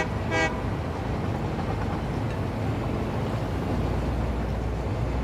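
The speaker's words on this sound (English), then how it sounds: "Oh, there is the incoming train." An incoming train in the Satisfactory factory-building game sounds one short, bright horn toot near the start, partly buried in a steady wash of in-game machinery and ambient noise.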